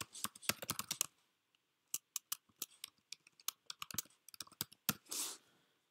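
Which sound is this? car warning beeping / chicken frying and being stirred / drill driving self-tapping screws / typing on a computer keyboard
typing on a computer keyboard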